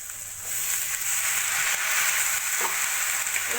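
Fenugreek leaves frying and being mixed with vegetables in a pan, heard as a dense, steady hiss of sizzling oil with faint stirring scrapes, close and fairly loud, no speech.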